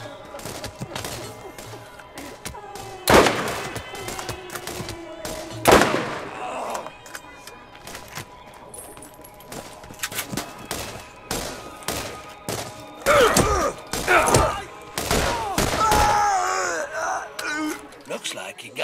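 Gunfire in the Borderlands video game comes as several sharp, loud shots and bursts spread across the scene, mixed with groaning game voices, tonal effects and other clatter.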